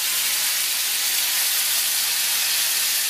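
Salmon browning in a hot pan gives a steady, loud, bright sizzle that holds evenly throughout and then cuts off sharply, with no talking.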